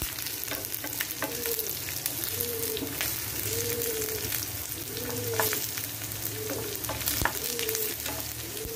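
Garlic sautéing in oil for a fish fry masala, a steady soft sizzle with a spoon scraping and stirring the pan in regular strokes over several seconds.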